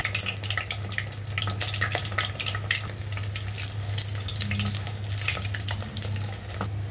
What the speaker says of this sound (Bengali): তারপর এগুলোকে মিডিয়াম আঁচে রেখে একটু ঘুরিয়ে ঘুরিয়ে খুব ভালো করে ভেজে